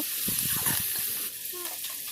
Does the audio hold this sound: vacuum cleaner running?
no